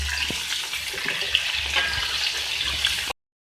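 Chicken pieces frying in hot oil in a karahi, a steady broadband sizzle and crackle running without a break, close and fairly loud, with a few faint utensil clinks and no talking.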